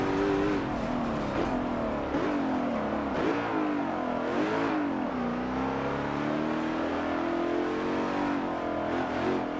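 A race car engine in Forza Motorsport 7 revs up and down repeatedly under a driver's delicate throttle, its whining pitch sweeping and wavering loudly and steadily with no voices.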